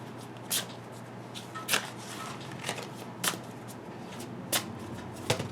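Oracle cards are shuffled by hand up close, with a soft continuous riffling broken by several sharp snapping flicks at irregular intervals.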